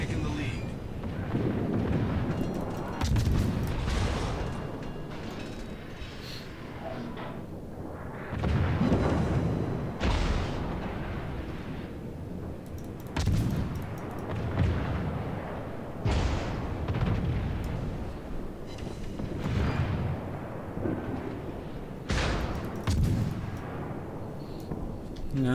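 Ship guns fire in World of Warships, producing repeated deep booming salvos at irregular intervals with low rumbling tails, mixed under game voice callouts and player talk.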